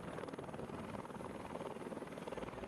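A tour helicopter flies around Pearl Harbor, its rotor beating in a fast, steady thump that stays loud and close throughout with no talk.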